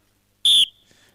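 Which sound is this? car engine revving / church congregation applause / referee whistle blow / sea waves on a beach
referee whistle blow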